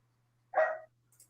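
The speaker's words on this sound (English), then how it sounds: "And I hear a dog barking." A single dog bark, a short loud burst standing out against a quiet background, followed by a faint brief high chirp.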